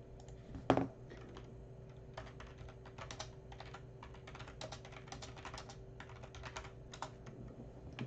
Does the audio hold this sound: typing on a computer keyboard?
yes